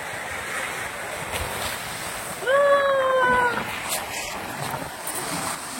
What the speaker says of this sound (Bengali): সমুদ্রের যখন ঢেউ আসে, পা দিয়ে দাঁড়াতে খুব ভালো লাগে